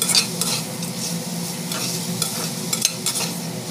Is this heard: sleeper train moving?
no